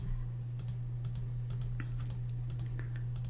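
Mouse clicks and key taps while selecting several items in Cricut design software, a scattered series of light, close clicks over a steady low hum.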